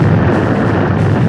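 A fuel explosion erupts in a reenactment of a missile-struck Flight 800 airliner, a loud, dense, continuous roaring blast that fills the whole short stretch with no talking.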